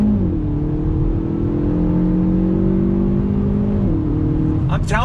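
A 2021 Hyundai Veloster Turbo pulls away in second gear with a loud, steady engine drone heard from inside the cabin that rises in pitch, then dips as the revs drop.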